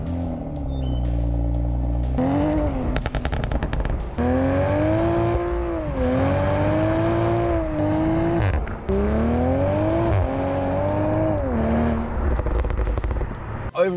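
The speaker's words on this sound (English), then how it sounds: "And then we have the dual exhausts. Yes, they are real and they sound beautiful." A 2020 Toyota Supra with real dual exhausts revs and accelerates, its engine note rising and falling loud and close through repeated pulls, with brief drops between gears and no talking.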